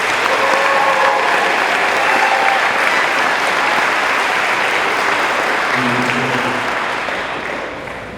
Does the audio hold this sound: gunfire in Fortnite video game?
no